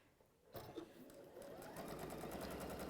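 A sewing machine stitches a quarter-inch seam on a quilt: the motor starts up and settles into a fast, even, rattling run of stitches, close by but fairly quiet.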